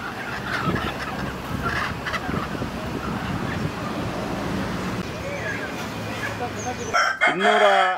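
A native country rooster crows amid a busy, noisy crowd with people talking nearby, its call rising clearly near the end.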